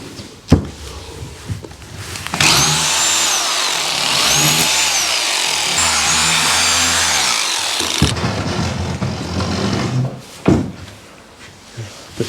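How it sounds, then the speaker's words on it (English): A power tool cuts out plasterboard during electrical work on an outdoor kitchen extension, whining steadily for several seconds with shifting pitch as it bites through the board, framed by knocks and handling noises before and after. "start cutting the plasterboard out."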